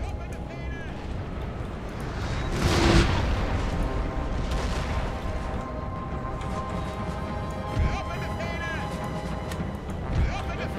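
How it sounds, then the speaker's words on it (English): Cannon fire booms in the Napoleon: Total War battle, deep thuds rolling out every few seconds at mid-distance beneath a continuous wash of battlefield noise, with someone talking over it. "Cannons are having to fire uphill,"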